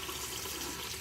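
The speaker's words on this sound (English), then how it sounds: "So now I'm going to do a quick wash on my hands" Water runs from a faucet at a sink while hands are quickly washed under it, a soft, even stream heard alone.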